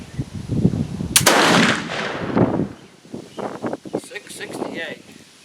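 A flintlock pistol fires once outdoors, a loud close blast with a brief delayed ignition feel, followed by voices talking and wind buffeting the microphone.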